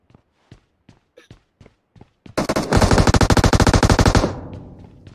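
Automatic weapon fire in the shooter game PUBG: a string of separate sharp thuds like footsteps, then a loud, dense two-second burst of rapid shots that breaks off suddenly.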